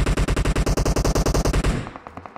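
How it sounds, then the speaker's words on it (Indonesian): Rapid automatic gunfire from a teammate's weapon in PUBG Mobile, a loud close burst of evenly spaced shots lasting nearly two seconds before breaking into a few fainter, scattered distant shots. "Temen gue nembak apa sih?"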